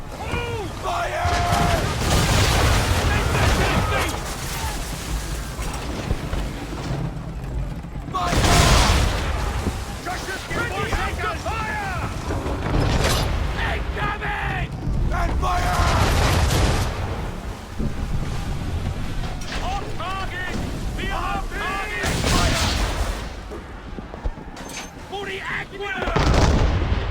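Ship cannons firing broadsides in the naval combat of Assassin's Creed III, several loud booming volleys spaced every few seconds amid crashing water and battle din, with shouted voices between the blasts.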